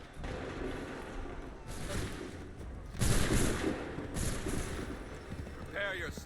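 Massed musket volleys in an Assassin's Creed 3 battle, sounding as several loud, rolling bursts of gunfire over continuous noisy battlefield din, with a shouted voice near the end.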